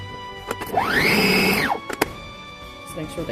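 A kitchen mixer whirs through orange ermine frosting in one steady burst of about a second, its pitch rising and then dropping away, with faint clinks after it.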